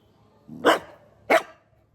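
A dog barks twice in a home, two loud, close, sharp barks about half a second apart with quiet between them.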